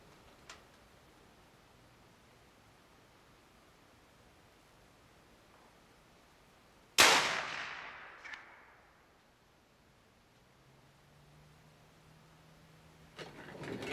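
In a quiet outdoor setting, a big bore air rifle lets off a single sharp, loud crack, followed a moment later by a fainter ping off a steel plate target, and the sound then fades back to near silence.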